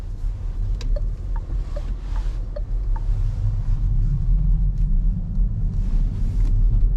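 A 2024 Renault Espace 200 HP hybrid with 20-inch wheels is driven at night, a steady low road rumble and tire drone filling the cabin with faint clicks above, growing slightly louder toward the end.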